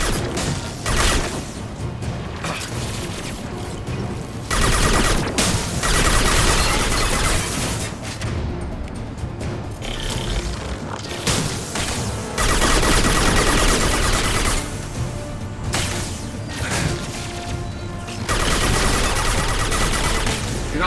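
Heavy gun fire in Mass Effect 2, sustained bursts of loud rapid shots and crashing impacts recurring in waves over about twenty seconds, with brief lulls between volleys.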